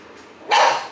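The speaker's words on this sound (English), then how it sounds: "She's barking at herself." A single sharp dog bark, close and loud, rising abruptly out of quiet near the end.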